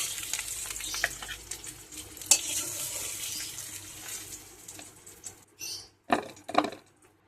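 Egg mixture sizzles gently in a hot pan, a soft, steady frying hiss with occasional scraping and clinks of stirring, then louder bursts near the end, with no speech.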